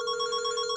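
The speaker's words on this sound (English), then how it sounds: "As you can see, it's ringing, it's working." A telephone rings inside a microwave oven with its door open, giving a bright electronic tone that holds steady and clear at moderate volume, with no speech.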